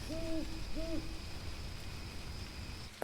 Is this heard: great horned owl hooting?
yes